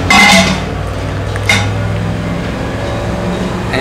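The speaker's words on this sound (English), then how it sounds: "So we're going to take our wort chiller. We're going to place that right into our pot" A metal wort chiller clanks into a brewing pot during an all-grain Belgian ale brew, one loud ringing knock at the start and a smaller clink about a second later, then quiet.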